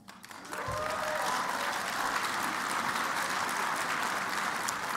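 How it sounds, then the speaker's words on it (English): An audience at a keynote address bursts into applause after the speech, a brief quiet opening giving way to sustained, even clapping from many hands in a room, steady and moderately loud to the end. "Maybe the only applause I'll get"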